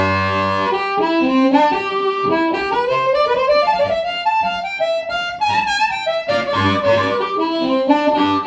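Harmonica played through a Strnad harp microphone with the attack setting engaged, giving a loud, continuous run of bending melodic phrases and chords with no talking.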